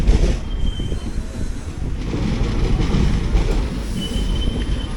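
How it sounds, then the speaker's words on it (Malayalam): Ernakulam–Tatanagar Express rolling along the Podanur bypass, a steady close rumble of wheels on rail with brief high wheel squeals, continuous for the whole stretch with no talking. "നമ്മുടെ പോത്തന്നൂർ ബൈപ്പാസ് വഴി പോകുന്ന ട്രെയിനാണിത്."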